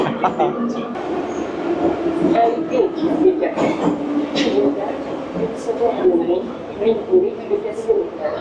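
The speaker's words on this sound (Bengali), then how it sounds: "কোনো ফরেন কান্ট্রির মেট্রোতে এসে ট্রাভেল করছি পুরোনো সোভিয়েত জামানার মেট্রো" Steady rumble and rattle of an old Soviet-era metro carriage in motion in Tashkent, Uzbekistan, with clattering wheels and occasional squeaks, and people talking over it.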